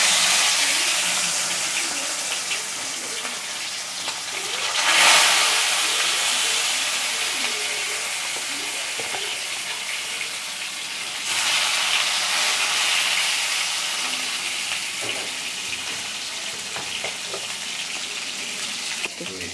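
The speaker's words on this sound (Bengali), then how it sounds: "সর্ষের তেলটা গরম হয়ে গেলে এই মাছটা ভেজে নেব।" Rohu fish frying in hot mustard oil, a dense steady sizzle and hiss throughout, swelling loudly when pieces go into the pan, with faint background murmur.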